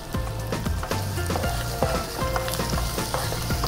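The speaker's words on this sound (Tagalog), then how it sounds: "lagay na natin yung ating prawns" Prawns sizzle and crackle in hot buttered garlic in a pan outdoors, a steady close frying hiss with scattered pops and occasional stirring clinks throughout.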